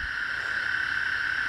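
A steady, continuous high trill of Texas toads calling, loud and unbroken throughout, with no pauses or other sounds.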